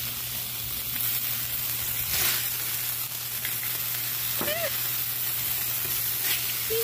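Smashed meat patties sizzle and fry in a hot pan, a steady close crackling hiss with a faint low hum and occasional brief clinks or scrapes.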